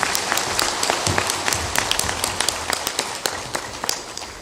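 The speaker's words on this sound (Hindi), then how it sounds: "जोरदार ताली बजा दीजिए" A crowd at a religious discourse applauds loudly after a journalist is honored with a garland, the clapping brisk and dense with distinct sharp claps standing out, close and continuous throughout.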